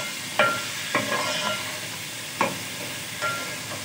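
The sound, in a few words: garlic and ginger frying in a pan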